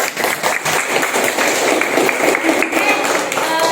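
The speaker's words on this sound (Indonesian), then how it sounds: "Untuk berikan tepuk tangan." A classroom of students applauds, a dense, steady patter of many hands clapping close by that holds at an even level from start to finish.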